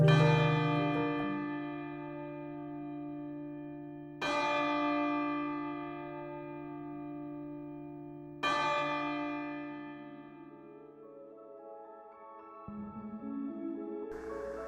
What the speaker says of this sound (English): they rang the original bell 29 times for each member that perished on that tragedy